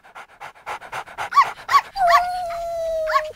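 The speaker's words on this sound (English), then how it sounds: "One evening, Becky is taking her dog Rocky for a walk." A dog on an evening walk pants rapidly and rhythmically at close range, then lets out a drawn-out whine with a few short yips over the top, with no one talking.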